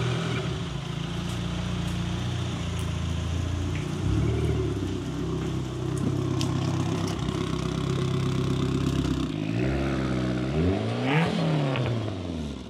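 A modified Mitsubishi Eclipse GSX with 240,000 miles, its horsepower doubled, runs steadily near at idle, then revs up and down in rising and falling sweeps toward the end.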